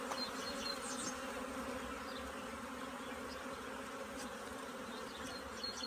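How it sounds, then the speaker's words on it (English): Honey bees buzz steadily and densely around a hive, a continuous close hum with no voices. "I'm going to try and get the bees off of it"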